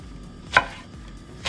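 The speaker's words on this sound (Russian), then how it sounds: "Это острый перец. Его нарезаем вот такими вот" Two sharp knife chops through a hot pepper on a cutting board, about a second apart, close and crisp against a quiet background.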